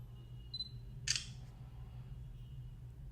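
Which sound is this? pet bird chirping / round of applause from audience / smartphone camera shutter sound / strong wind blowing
smartphone camera shutter sound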